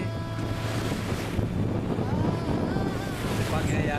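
Headwind roaring across a sailboat at sea near the Abacos, with waves rushing and slapping against the hull, a steady loud wash of wind and water close to the microphone throughout.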